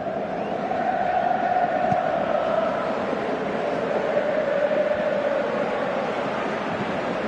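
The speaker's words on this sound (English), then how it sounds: "you can feel and hear how the crowd are reacting to all of this" Crowd noise from a PES 2018 football video game: a dense, continuous stadium roar that swells slightly and holds steady for several seconds, with no voices distinct from the crowd.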